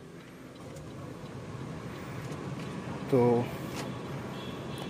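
A used car's steady low engine idle with a broad air-conditioning hum, continuous throughout, with a brief spoken word and a short tonal sound near the end.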